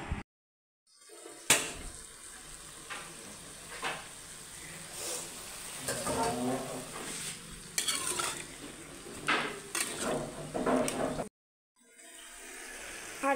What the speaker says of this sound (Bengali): আর এদিকে পুঁইয়ের শাক আর আলু দিয়ে ভাজি হচ্ছে।